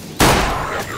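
Gunshot headshot in Garry's Mod: one sharp, loud blast that hits hard and then leaves a long, broad, rumbling tail through the rest of the second, with no voices.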